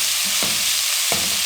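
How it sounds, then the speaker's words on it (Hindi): Kachori filling being mixed in a frying pan, a steady hiss of sizzling oil with two quick spoon scrapes about 0.7 seconds apart. "अब इन तमाम चीज़ों को अच्छे से मिक्स कर लेंगे"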